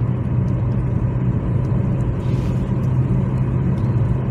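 A car driving on the road, heard from inside the cabin as a loud, steady low rumble and whir of engine and tyres that holds constant throughout, with no voices.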